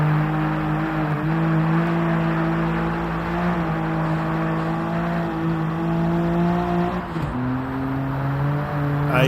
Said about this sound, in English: I hit the rev limiter.